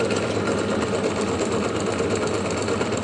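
A homemade pulse motor spins on a single rotor fitted with large 2-inch magnets, giving a steady, even mechanical whirr and hum that runs unbroken from start to end at moderate loudness.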